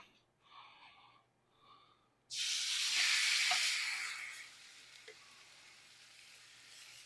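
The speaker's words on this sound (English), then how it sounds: "We're going to take the steaks over here and we're going to put these into the pan." Steaks hit a hot, smoking pan with a sudden loud sizzle that swells, then settles into steady frying hiss, after a couple of quieter soft sounds beforehand.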